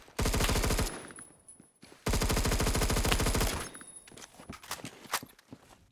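Automatic gunfire from a Roblox Phantom Forces firefight, two long rapid bursts of close, loud shots separated by a short pause, then scattered quieter shots and game clatter trailing off.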